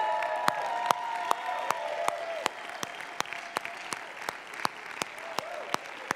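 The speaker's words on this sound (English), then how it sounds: "Can we take a moment and really stand and cheer for Josh and Bethy and tell them thanks?" An audience at a conference general session stands, cheering and applauding in a steady wash of clapping, with sharp individual claps popping out near the front as the applause thins slightly toward the end.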